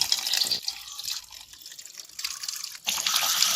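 Water tipped out of a bucket of soaked peppercorns, gushing splashes at the start, a quieter trickle through the middle, then a strong pour again toward the end.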